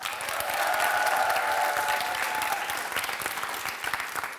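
Steady, sustained applause from a large crowd at a school competition, dense clapping throughout with a faint tone running underneath.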